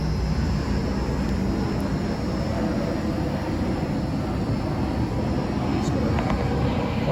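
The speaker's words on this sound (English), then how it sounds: "plane going over there. We're right on a flight path here to our local airport." A plane passing overhead on the flight path into a local airport, a steady broadband roar of engine noise that stays fairly loud and even throughout, with no speech over it.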